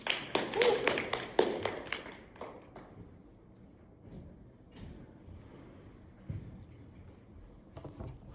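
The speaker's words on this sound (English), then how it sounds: "round of applause for Andy" Audience applause at a startup pitch competition, a burst of many clapping hands in the first few seconds that quickly thins out and dies away into a quiet room.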